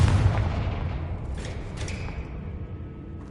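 Confringo fire spells in Hogwarts Legacy burst in a dense, continuous rumble of magical blasts and impacts, with several brief sharper cracks standing out over a loud low roar.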